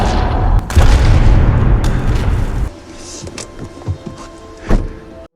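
A loud gunshot blast in a dramatic film scene, a heavy boom-laden burst over a dense score for the first half, then quieter rumbling with a couple of sharp thuds and a final impact near the end.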